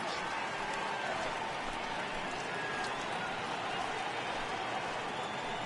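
Home baseball crowd at a Cubs–Brewers game applauding a departing pitcher, a steady wash of clapping and cheering that holds at an even level throughout.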